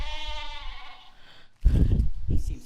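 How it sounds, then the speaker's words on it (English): A rabbit sheep creature in the video game The Book of Unwritten Tales 2 bleats twice, a drawn-out wavering bleat followed after a short pause by a louder, rougher bleat, close and clear. "They're freaking rabbit sheep."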